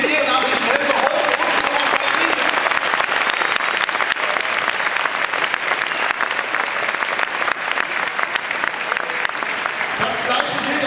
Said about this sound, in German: Dafür schon mal noch einen Applaus